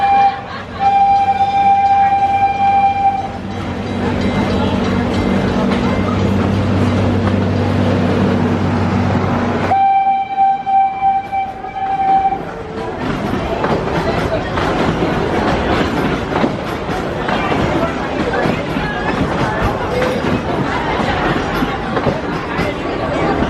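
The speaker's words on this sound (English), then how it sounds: "Always willing to hop aboard a train." Steady rumbling of a moving train with rhythmic rail clatter, a tonal hum from the carriage, and people chatting nearby over the din.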